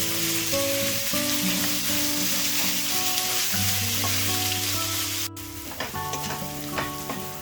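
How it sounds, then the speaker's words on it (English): Steady sizzling of shallots frying in a hot pan on high flame, with occasional stirring scrapes and a sharp clatter partway through, continuous and close. "I've been frying this shallot for almost 10 minutes on high flame."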